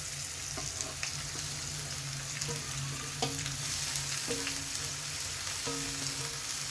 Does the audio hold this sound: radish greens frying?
yes